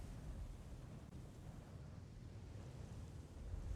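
Ocean waves roll under gusting wind, a faint, continuous low wash of surf with no distinct breaks, distant and steady, alone without voices.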